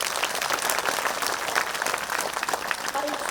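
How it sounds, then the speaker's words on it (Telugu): An outdoor audience at a Shakahara rally in Madanapalle applauds for children, a dense, continuous wash of many hands clapping at steady volume with faint voices mixed in. "చిన్నారులకు గట్టిగా చప్పట్లు కొట్టం"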